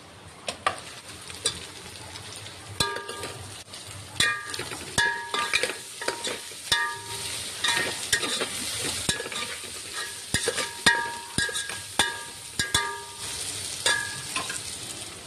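Green chillies and onions fry for paneer biryani in a pan of ghee and oil, a soft ongoing sizzle broken by sharp spoon clinks and scrapes against the vessel, close and fairly quiet, without talk.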